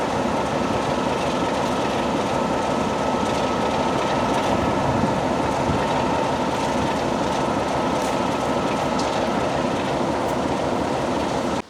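An old Southern Region passenger train, stock once stored at Eridge Green, rolls past close by with a loud, steady rumble and rattle of wheels on track that holds for the whole stretch without a break.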